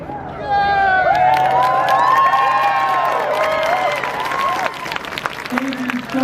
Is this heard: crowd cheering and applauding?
yes